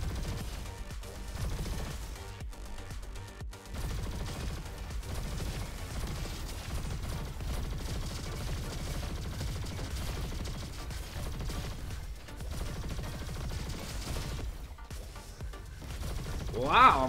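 Sustained rapid gunfire from a Typhoon minigun in a video game, a dense continuous roar of shots lasting throughout, loud and unbroken, with brief dips and a final swell.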